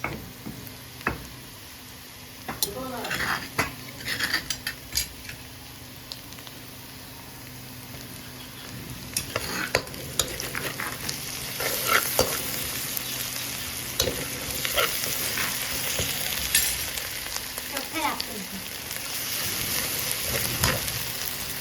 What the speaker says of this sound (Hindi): अभी हम इसमें डालेंगे लहसुन अदरक का पेस्ट।